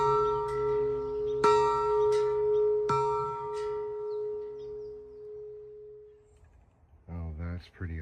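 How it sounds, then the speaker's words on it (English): I-beam steel archway bell sculpture at an outdoor sculpture park rings with a sustained metallic tone, struck twice more so it swells and slowly fades, then a voice briefly speaks at the end. "This is the I-beam Steel Archway Bell by Tom Torrens."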